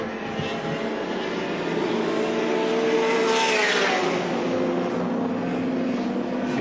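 A touring race car, the K-Mode car, speeds past on a partly wet circuit at a 1984 Lakeside championship round. Its engine roars loudly and steadily, with a rising then falling pitch as it passes close by.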